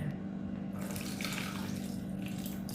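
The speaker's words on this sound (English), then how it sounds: "I'm going and got my strainer and strain it again" Browned butter poured through a strainer, a steady close liquid trickle and splash that continues without pause.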